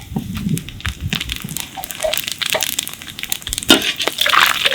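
Fennel seeds and cinnamon sticks drop into hot sesame oil, which crackles and spits in a busy close sizzle with sharp pops and bursts throughout.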